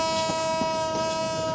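A passenger train at Kamalapur railway station sounds a sustained, steady horn tone over rumbling rail noise, loud and continuous throughout, with no voices.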